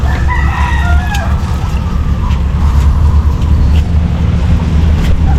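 A rooster crows and hens cluck over a steady low engine-like rumble, the bird calls clear and fairly close.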